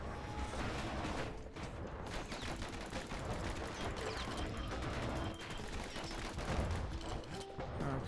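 Rapid gunfire from the Calamity Cannon in the Bastion video game, a dense continuous barrage of shots and mechanical clatter running throughout at steady loudness over game music.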